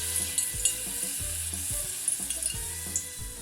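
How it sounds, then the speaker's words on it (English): A sprig of rosemary sizzles in hot frying oil in a pot, a steady crackling fry with small popping bursts, close and moderately loud, no speech. "I'm just going to add a little sprig of rosemary to the oil."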